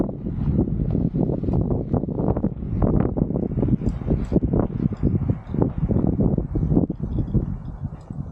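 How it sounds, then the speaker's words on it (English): Steady outdoor wind buffets and rushes across the microphone at a campsite, a dense low roar with gusty swells and faint rustling, continuous for the whole stretch with no talking. "The wind is blowing a little bit today."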